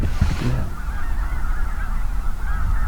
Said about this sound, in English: There's a good many geese over here to our right.